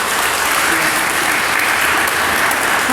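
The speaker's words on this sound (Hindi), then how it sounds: "उनकी स्तुति के लिए हम क्या ताली बजा के" A church congregation at a New Delhi session claps in praise, a loud, dense, continuous burst of applause filling the room, with a faint voice beneath.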